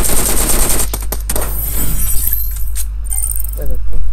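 Rapid bursts of gunfire and shattering impacts from a PUBG Mobile battle in Skyhigh Spectacle mode, loud and close, with players talking over the shooting.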